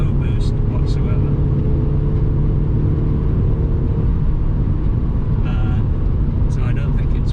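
A 2003 Audi TT 225 Quattro lacking turbo boost drives under acceleration, a steady loud droning engine and road rumble heard from inside the cabin, with someone talking over it.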